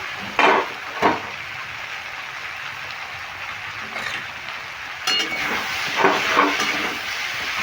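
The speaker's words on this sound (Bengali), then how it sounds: "সবজিটা ভালো করে নেড়ে ভেজে নিলাম" Winter vegetables with spinach fry in a pan, a soft steady sizzle broken by several sharp utensil scrapes and clinks as they are stirred.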